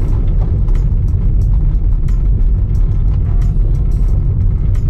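A Tesla cruises through Australian bush countryside, giving a steady, continuous low road and tyre rumble heard from inside the cabin.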